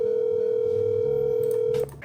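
A steady telephone dial tone hums loud and unbroken for almost two seconds as a call is placed, then cuts off abruptly with faint clicks and background noise.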